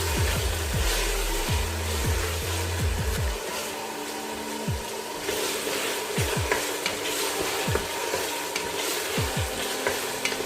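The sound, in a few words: chicken keema frying on high flame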